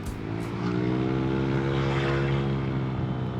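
A steady, loud motorcycle engine drone through a TRC Racing Powerpipe exhaust, with a deep exhaust tone, holds throughout, rising slightly early on as the throttle is revved, with no talking.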